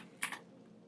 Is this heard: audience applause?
no